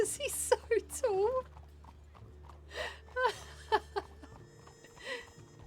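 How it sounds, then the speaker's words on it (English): Horse hooves clip-clop in a Wild West video game roleplay, a loose trotting rhythm of soft knocks beneath ongoing speech and a light chuckle. "it always makes me laugh seeing Marlo on the back of someone's horse"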